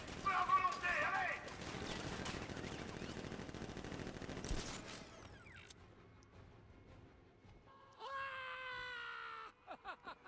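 Gunfire in Batman Arkham Knight: a dense, sustained burst of rapid automatic shots, then a sharp crack and a cutoff, followed by other game sounds including a high-pitched cry and short bursts.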